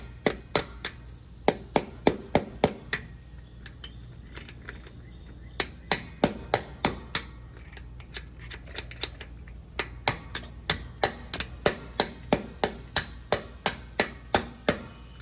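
Rapid bursts of sharp metal-on-metal hammer strikes on a small punch while repairing a riding mower, in quick runs of several blows separated by short pauses, close and loud.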